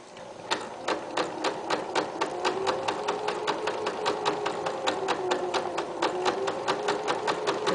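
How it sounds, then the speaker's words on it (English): A sewing machine stitches fabric in a fast, even run of sharp mechanical clicks over a motor hum, close and clear, with a rapid steady rhythm throughout. "Turn with the needle down in the fabric. And then again, start stitching."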